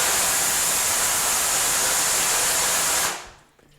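A steady, loud hiss of pressurized water sprays against a screen-printing screen to wash out emulsion, then cuts off abruptly after about three seconds.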